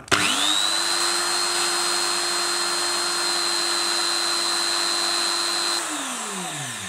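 A drill machine runs steadily with a strong whining hum, alongside a lamp on a household circuit, then winds down and stops abruptly near the end as an overcurrent protection device cuts the power.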